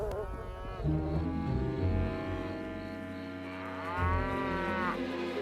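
A cow moos loudly in a long, drawn-out call, pauses briefly, then lows again, in an animated Western comedy setting.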